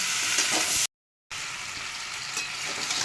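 Mixed vegetables for a Bengali labra dish sauté and sizzle in a pan, a loud, continuous crackling hiss broken by a brief moment of silence before resuming, with no talking.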